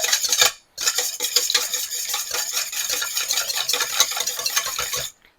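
Eggs whisked briskly in a bowl for pumpkin bread: a fast, steady clatter of a whisk or fork against the bowl. It runs nearly unbroken for about five seconds after one brief pause, close and fairly loud, with no talk.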